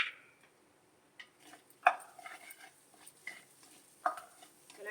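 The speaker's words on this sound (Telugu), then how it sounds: "ఓవెన్ గరిట అండి అందువల్ల వేడిలో తిప్పగలుగుతున్నాను" Fried rice being stirred with a metal ladle in a hot pan, giving a few sharp scraping clinks and soft shuffling sounds, fairly close and moderately quiet, with no talking.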